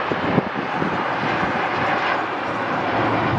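A WestJet jet airliner at LAX roars steadily in the distance, a broad continuous engine rumble and hiss without speech.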